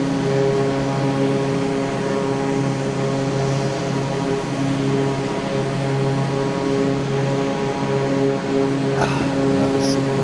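A propeller aircraft engine in Microsoft Flight Simulator drones steadily and loudly with a strong tonal hum and buzzing harmonics, unbroken throughout, with a brief click near the end.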